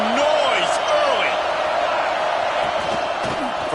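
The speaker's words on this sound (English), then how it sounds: "This crowd bringing the energy and noise early." Stadium crowd noise in a college football video game: a dense, continuous roar of many voices with scattered shouts and whoops, loud and steady throughout with no pause.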